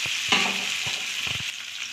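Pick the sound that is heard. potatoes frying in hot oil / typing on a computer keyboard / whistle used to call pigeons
potatoes frying in hot oil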